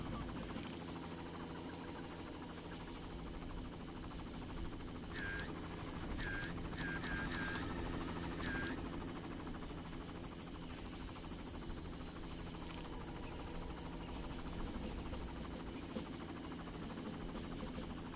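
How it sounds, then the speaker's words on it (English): A helicopter in the video game Far Cry 1 drones as a faint, steady rotor and engine hum, with a cluster of short higher chirps partway through. "I want the helicopter to gun me down like last time."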